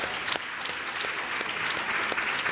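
An audience at a breast cancer talk breaks into steady applause, a dense wash of clapping from many hands filling the room, fairly loud and continuous with no voices over it.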